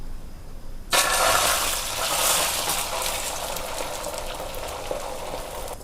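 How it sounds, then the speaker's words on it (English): Eggs hit hot oil in a pan with a sudden loud, steady sizzle that starts after a second of quiet and keeps crackling evenly to the end. "So I'm going to add 2 or 3 tablespoons of oil to it. Now I'm adding the eggs."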